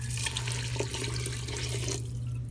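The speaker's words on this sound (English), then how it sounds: "you're going to want to add 2 cups of water" Two cups of water poured into a pot of taco soup with ranch seasoning and beans, a steady close rush of running liquid that stops near the end, no talk.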